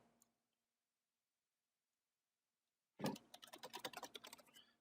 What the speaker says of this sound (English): start typing again